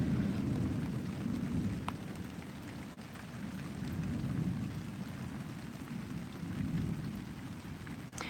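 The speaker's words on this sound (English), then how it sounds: "Do you guys, Carl and Mungie, do you guys get very many lightning storms where you are?" A thunderstorm brings steady heavy rain and a low, continuous rumble of thunder. Nobody speaks.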